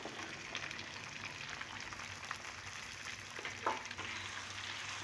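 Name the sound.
potatoes frying in pan with cumin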